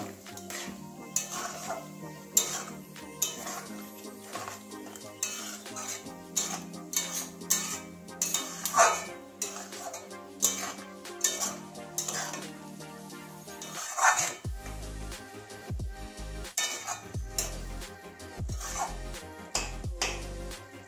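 Poppy seed and potato curry stirred in a pan with scattered metallic scrapes and clinks of a utensil against the pan at close range, irregular and fairly busy throughout, with a duller thud-heavy stretch near the end.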